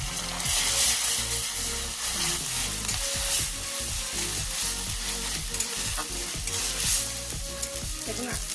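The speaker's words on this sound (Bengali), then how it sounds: "আদা রসুনটাও ভালো করে ভেজে নেবো" Ginger-garlic paste sizzles and fries steadily in a pan as a mushroom curry is cooked, with repeated scraping strokes of a spatula stirring it throughout, loud and close.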